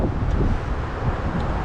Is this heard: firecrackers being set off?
no